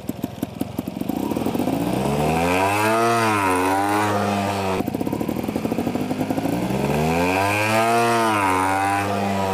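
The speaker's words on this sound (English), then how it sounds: "I like this static balance and then rev up the bike and go" A motorcycle engine revs hard twice from a standstill while the rider balances in place before taking off, each rising and falling sweep loud and close, with no talking.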